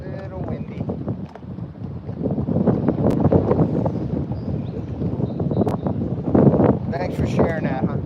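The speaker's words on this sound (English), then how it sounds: "Little windy." Gusty wind buffets the microphone on a lake while bass fishing, a continuous low rumble that rises and falls, with voices talking over it.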